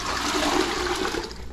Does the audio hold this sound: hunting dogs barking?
no